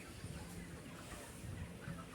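Broiler chickens in a large shed give a low, steady murmur of clucking, with many birds close together and no single bird standing out. It sounds like continuous flock chatter.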